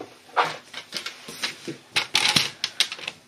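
Scissors or a trimmer cutting a strip of polished pink cardstock for a card, a series of sharp crisp snips and clicks in an uneven rhythm, close and fairly loud, no talk.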